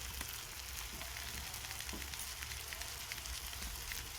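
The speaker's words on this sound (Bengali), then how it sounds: "মশলাটা লাল লাল করে ভেজে নেব" Spice masala for chicken curry fries in a pan, giving off a steady, soft sizzle with faint crackles, quiet and continuous.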